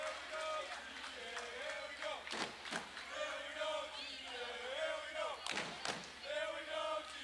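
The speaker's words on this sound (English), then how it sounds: "Partisan crowd trying to get Thornton Academy pumped up on the D." Partisan home crowd cheering and shouting at a 1991 high school boys basketball game between Thornton Academy and Lewiston, a steady roar of many voices in a gym with a couple of sharp thuds and surges.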